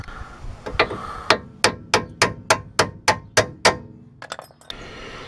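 Hammer blows knocking out a steering tie rod end on a VAZ 2107 car, about ten sharp metallic strikes in a steady rhythm, close and loud, followed by a few lighter taps.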